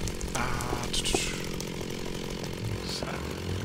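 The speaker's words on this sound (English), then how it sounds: "I should get my chainsaw ready." Chainsaw from modded Minecraft buzzing steadily and loud at close range, a continuous rasping drone with slight pitch wobble and no talk over it.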